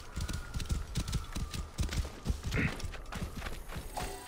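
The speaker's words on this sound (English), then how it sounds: "Not sure where I got this horse from, but okay. It's a fast horse." A fast horse in Assassin's Creed Origins gallops along, its hooves clip-clopping in a steady quick rhythm at moderate volume, with a faint whinny and light game ambience underneath.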